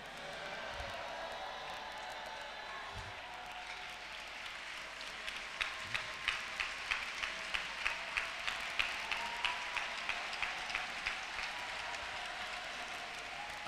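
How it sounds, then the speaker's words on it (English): A church congregation applauds during a pastor's induction at the Apostolic Church Nigeria annual convention in Abuja, a steady wash of clapping that breaks into a run of sharp, evenly spaced rhythmic claps through the middle. "It will not be only clapping."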